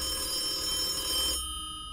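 A phone rings in a Vietnamese horror video game, a steady electronic trill that plays loudly on its own and then cuts off abruptly partway through.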